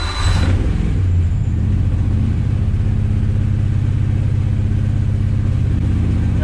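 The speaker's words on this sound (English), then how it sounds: "So I'll start the car." A race car engine cranks and fires, then settles into a loud, steady idle with a deep, throbbing low rumble, close and continuous with no talking.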